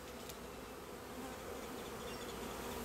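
Honey bees from a newly installed package hum around their hive in a bee yard, a faint, continuous dense buzz with no voices.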